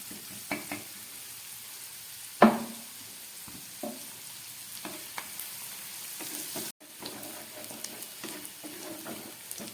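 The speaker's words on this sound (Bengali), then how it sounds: "পেঁয়াজটা অনেকটাই ভাজা হয়ে গেছে" Onion frying in oil with green chilli gives a faint, low sizzle broken by scattered scrapes and clacks of stirring, one sharper knock midway, no voices.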